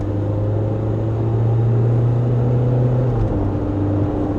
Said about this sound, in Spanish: Tienes el modo Sport, que a ver, aceleremos, se demora.